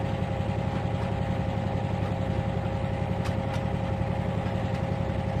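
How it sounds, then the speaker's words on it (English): A steady train engine hum from the video game Trainz 2019 drones continuously at moderate volume, with a few faint clicks on top. "Listen to that engine hum."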